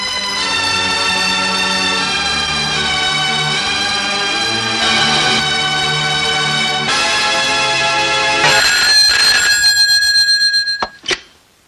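A telephone rings continuously in a loud, sustained electronic trill, then stops abruptly with a clatter as it is picked up.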